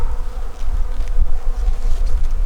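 Honeybees swarming around an opened hive, a dense, continuous close buzzing drone that rises and swells slightly in loudness, with no voices heard.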